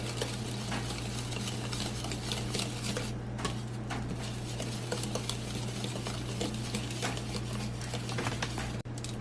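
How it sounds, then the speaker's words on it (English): Red velvet cake batter being mixed until smooth and blended, a steady scraping and clinking of utensil against bowl running continuously over a constant low hum, no talking. "We're just going to mix it in so you don't see no lumps and it's well blended."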